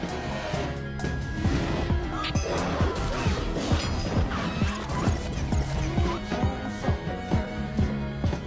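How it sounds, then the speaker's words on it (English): A door window's glass is smashed, giving a long run of crashing, clattering impacts and shards rattling over about eight seconds, loud and busy with a few brief voice sounds underneath. "He broke the glass, opened the door, and went inside."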